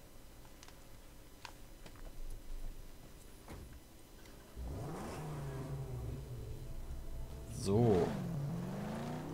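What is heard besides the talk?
car driving in the video game Mad Max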